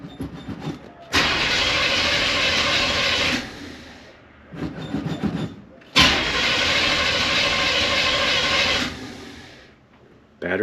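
A 1941 Oldsmobile engine, just fitted with a new starter, revs loudly in two long bursts of gas separated by a brief settling idle, the roar holding steady for a couple of seconds each time before dropping back.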